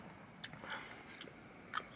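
Someone bites and chews a barbecue boneless chicken wing from Wingstop, with a few soft moist crunches and chewing sounds close to the mic, quiet and without talk.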